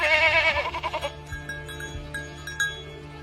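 A sheep lets out one loud, wavering bleat up close, then quieter animal sounds and a faint bell follow.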